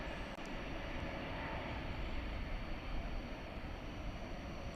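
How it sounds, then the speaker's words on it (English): Aircraft at DFW Airport lined up on the west-side runway awaiting takeoff at night, giving a steady, continuous engine roar and rumble from a distance with no talking. "There's all the planes lining up here on the west side to take off."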